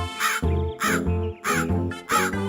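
A crow caws four times, loud and close, each caw a harsh, rasping call separated by brief pauses.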